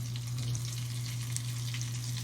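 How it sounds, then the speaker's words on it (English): Plant-based acarajé frying in hot oil during a cooking class, a soft continuous sizzle with small crackles and pops over a steady low hum, no talking. "some frying"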